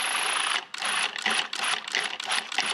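A food processor pulses roasted eggplant into a puree in short bursts of loud whirring motor and chopping blade noise, about five pulses separated by brief gaps, with no talking.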